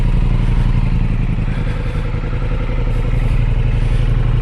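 A Kawasaki Ninja H2 SX SE supercharged sport-touring motorcycle rides off with a loud, steady, throbbing engine drone heard up close and sustained throughout, with no voices.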